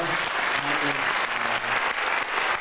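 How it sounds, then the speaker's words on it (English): Steady applause from a crowd at a 1992 Sonoma State University talk, dense clapping filling the whole stretch at a constant, fairly loud level with a faint murmur beneath. "I would like a round of applause to Genesis and to Hyperlife Radio."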